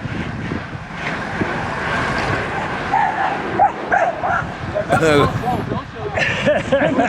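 A dog yips and barks in short bursts amid steady outdoor noise and a passing vehicle, with people talking nearby.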